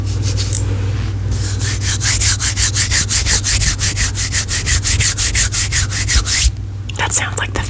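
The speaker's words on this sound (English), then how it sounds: "That sounds like the fabric scratching to me." Fingernails scratching fabric for ASMR, a close, rhythmic rasping of fast, even strokes lasting several seconds, stopping briefly before resuming.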